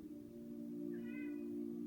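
A house cat gives one short, fairly faint meow indoors, heard over a steady low hum with no talk.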